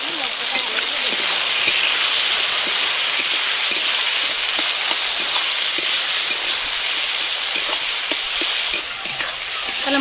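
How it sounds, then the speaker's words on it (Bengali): Onion, tomato and spice masala fries in a pan for mutton curry, a loud, steady sizzle with frequent scraping stirs throughout. "দিয়ে দেবো টুকরো করা টমেটো, দিয়ে এবার আমি মশলাটা ভালোভাবে ভেজে নেব"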